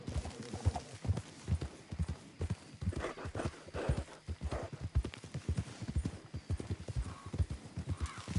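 Horse hooves galloping in Red Dead Redemption 2, a fast, steady clip-clop of hoofbeats running throughout at close range, with a brief whinny mixed in.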